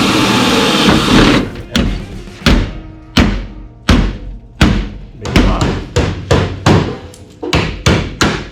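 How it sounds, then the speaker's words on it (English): A hammer pounds rusted sheet metal on a square-body Chevy truck, starting with a scraping rumble and then giving a dozen loud, close thuds that grow quicker toward the end. "More of the truck keeps falling off every time we hit it with a hammer."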